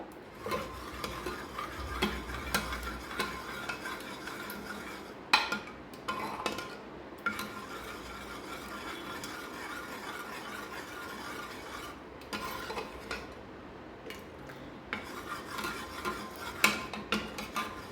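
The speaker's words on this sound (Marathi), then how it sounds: "हे डाळीला छान फेटून घ्यायचं आहे आपल्याला अशा पद्धतीने बघा" Cooked toor dal is whisked in a pot, producing soft rhythmic scraping and stirring sounds with occasional clinks against the vessel, close and fairly quiet with no talk.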